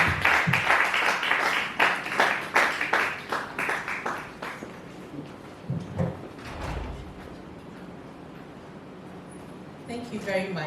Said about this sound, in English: Without much ado, and with an applause, I introduce to you Dr. Lawrencia Agyepong.